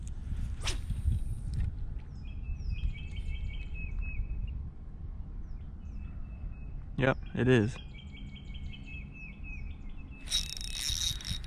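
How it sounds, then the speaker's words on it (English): A wild turkey gobbles in short bursts from somewhere in the background near a fishing spot, while smaller birds chirp and tweet high and thin, and someone speaks briefly. "That turkey's going crazy back there."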